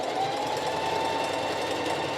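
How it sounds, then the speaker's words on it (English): Sewing machine running steadily while stitching a quilted jacket, with a constant close mechanical hum and whir that holds an even level throughout and has no pauses. "I'm going to backstitch there."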